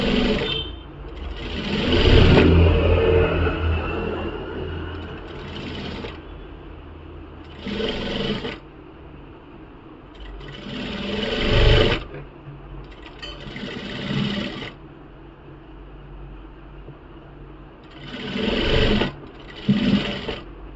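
A tailor runs a sewing machine one-handed, its stitching coming in loud whirring bursts of a few seconds each, separated by quieter pauses.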